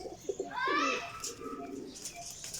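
Pigeons of a prized Sialkoti flying breed coo in a loft, a rolling burst of cooing with softer chirps and calls around it, fairly close and clear.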